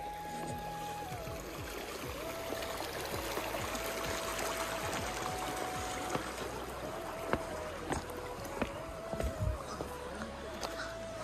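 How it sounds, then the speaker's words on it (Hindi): Water of a mountain stream flows along a rocky trail on the way to a hidden lake, a steady rushing wash throughout with a few louder splashes near the end and faint tonal sounds mixed in. "और पानी की आवाज़ भी कितनी बढ़िया लगती है।"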